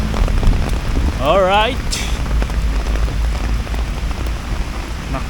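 Heavy rain falls as a loud, steady downpour, with a brief sung or warbling voice and a short spoken word heard over it.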